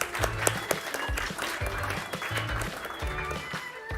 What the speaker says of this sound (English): Building up for an extra round of applause.